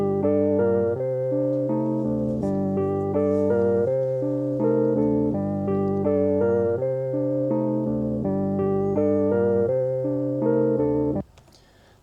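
Arturia Stage 73 electric piano plays a steady, looping chordal melody with a vintage wow wobble, loud and close with no voices, then cuts off abruptly near the end.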